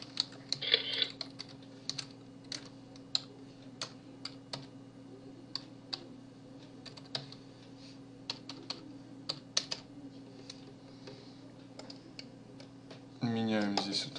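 Computer keyboard being typed on to enter text, producing quiet, irregular clicks and short bursts of keystrokes over a low steady hum, ending in a brief louder rush of noise.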